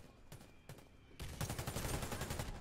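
Galil AR assault rifle fire in the Xbox One shooter Warface: a few isolated shots, then a dense rapid burst of automatic fire, loud and close, with no talk.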